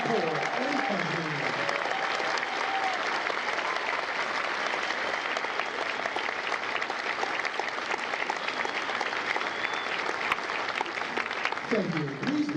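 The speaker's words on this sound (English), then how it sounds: "A round of applause for their dedicated service to corps and country" Sustained, full applause from a large audience at a Marine Corps recruit graduation ceremony, loud and even throughout, with a voice speaking faintly at the start and again near the end.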